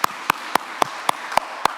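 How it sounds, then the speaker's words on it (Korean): Sharp, evenly spaced claps ring out in a church service, about seven crisp beats in under two seconds, fairly close and with no voices over them. "우리 하나님께 영광의 박수 돌려드리겠습니다"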